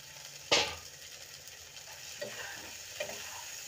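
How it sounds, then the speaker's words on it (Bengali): Okra and potatoes drop into hot oil with a sudden loud sizzle burst, then a steady low frying hiss with a couple of softer stirring scrapes following. "এখন আমি ভেন্ডিগুলোকে দিয়ে দেব, আলুগুলোকেও দিয়ে দেব"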